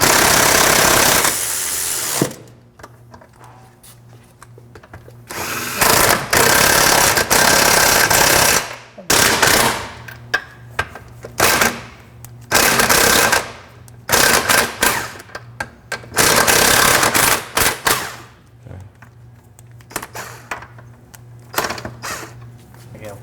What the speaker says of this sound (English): Loosen a nut.